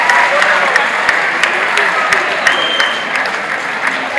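Crowd applause at an election rally in Jammu, dense continuous clapping from many people, loud and close, with scattered sharper claps and faint voices mixed in.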